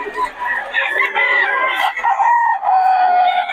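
A double-banded Sweater Gilmore gamefowl rooster at a market in Bocaue crows and clucks loudly at close range, in repeated bursts. Faint human voices can be heard behind it.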